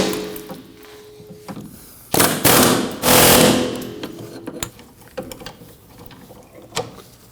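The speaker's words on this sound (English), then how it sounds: "Now I'm going to use an air hammer with a socket bit on each of the heads of the bolts." An air hammer fitted with a socket bit rattles against hub bolt heads on a 2003-2006 Subaru Baja rear wheel hub bearing module, loud pneumatic bursts of about a second each between quieter tapping and clicks.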